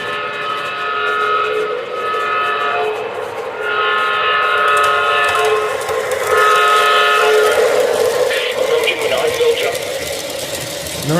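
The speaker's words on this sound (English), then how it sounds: "Just running my train." Menards Union Pacific model train running on a layout, a steady mechanical whir with whistle-like tones throughout, loud and close, with no talk over it.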